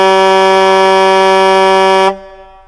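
A single loud, sustained air horn blast plays as a sound effect on a live stream, holding steady for about two seconds before cutting off abruptly into a fading tail.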